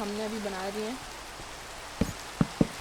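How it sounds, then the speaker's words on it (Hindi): Steady hiss of rain falling in the Minecraft video game, with a voice speaking briefly over the start and a few soft clicks near the end. "तो वर्ल्ड के अंदर बारिश शुरू हो गई है।"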